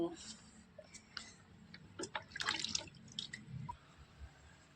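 Water poured onto freshly transplanted cucumber seedlings in deep soil, giving soft intermittent trickles and drips at close range, fairly quiet against a low background hum.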